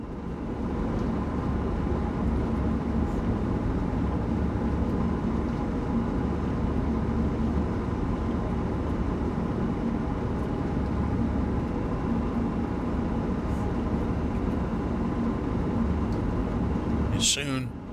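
Amtrak ACS-64 electric locomotive running at speed in Train Sim World 6, a steady loud rumbling drone with constant track and motor noise throughout, ending in a brief sharp burst near the end.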